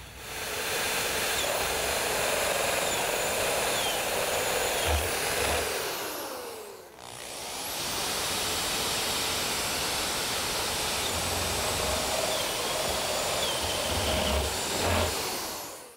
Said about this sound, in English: I'll use a 1-inch spade bit and I'll drill a hole where I made my mark.